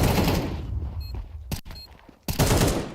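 Loud bursts of Counter-Strike 2 gunfire in a pro match, a heavy volley opening, a couple of sharp isolated shots mid-way, then another dense burst near the end.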